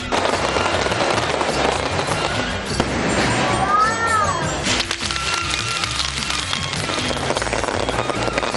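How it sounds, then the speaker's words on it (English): A dawn fireworks display for the Sinhala and Tamil New Year in Dambulla, heard as continuous dense crackling and popping with dull booms, a whistling streak in the middle, and a constant loud wash of noise throughout. "the people celebrated with a spectacular fireworks display at dawn to mark the arrival of the New Year"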